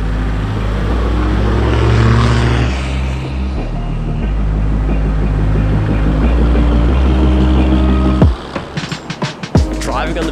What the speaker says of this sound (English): Here we go, beach driving.